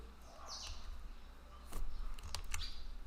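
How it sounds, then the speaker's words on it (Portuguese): Computer keys clicking, a few quick sharp taps like a backspace key pressed repeatedly, close and fairly quiet over a steady room hum, with no speech. "E apaga com o teclado aí, backspace."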